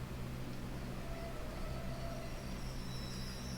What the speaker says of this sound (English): As the train continues to show off its realistic sounds.